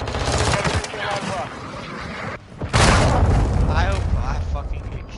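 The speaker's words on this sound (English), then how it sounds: "Hostiles launched a cruise missile" Loud, dense game combat from the Modern Warfare 2 Remastered beta: a heavy cruise missile blast and rumbling booms mixed with gunfire, a brief dip, then a renewed explosive roar, with voices talking over it.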